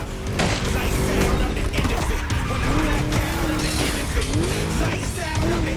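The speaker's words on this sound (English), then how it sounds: "Just listen to that V8 like a chonky, down-tuned guitar riff." V8 muscle car engine in The Crew Motorfest racing game, a loud continuous rumbling roar with rising and falling revs and tire squeal, steady throughout with faint talk underneath.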